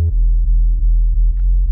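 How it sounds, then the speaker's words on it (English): A deep electronic bass line from a track, heavy sub notes pulsing in a steady repeating pattern of about five hits, loud and isolated with nothing else playing. "the bass sounds like this"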